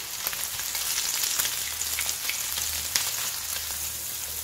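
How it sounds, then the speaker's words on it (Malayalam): Egg sticks fry in a pan with a steady, close sizzle, crackling with small pops and spits throughout and no voices over it. "ഒരു വശം ഒന്ന് ഫ്രൈ ആയിട്ട് വന്നിട്ടുണ്ട്, നമുക്കതൊന്ന് മറച്ചിട്ട് കൊടുക്കാം"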